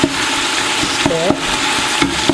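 Blended spices cooking for coconut rice get stirred in a hot pan, close sizzling with a couple of quick scraping strokes of the spoon over steady frying.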